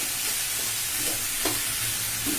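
Leafy greens fry in a pan with a steady, dense sizzle and occasional soft stirring scrapes, close and continuous with no talking.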